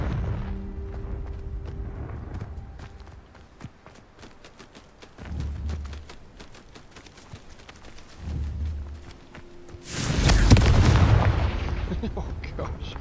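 A Confringo blasting spell goes off in Hogwarts Legacy as a loud, broad burst of explosive noise near the end, after quieter game sounds and a couple of low thumps, with a voice speaking over it.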